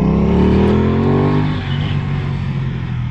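An Aprilia Tuono 660 sport motorcycle accelerates under throttle, a loud, close engine note climbing in pitch, then easing off into a steady rumble.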